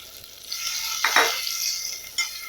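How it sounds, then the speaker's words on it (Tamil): Eggplant sautés in hot oil in a clay pot for a Tamil fish curry, giving a close, steady sizzle with a couple of quick scraping stirs and no voices. "இது கூடவே கத்திரிக்காவை சேர்த்து வதக்கிக்கலாம்."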